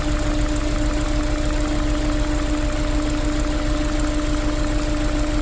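Honda S2000 engine running with a misfire, a steady close idle with an uneven knocking stumble and a constant whine, no voices over it.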